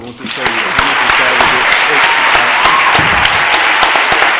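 A large audience claps loudly and steadily at a talk on Nimona, from comic to film, with dense applause filling the whole stretch without a break.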